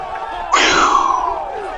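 In the video game Brawlhalla, a short burst of crowd cheering swells suddenly and fades over about a second, fairly loud, with no talking during it.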